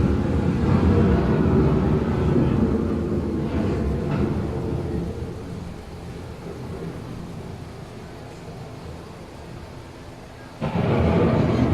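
An approaching thunderstorm on a dark-ride show scene, heavy low thunder rumbling for several seconds and gradually easing off, then a fresh loud burst of thunder near the end, with a rain-like hiss, no voices.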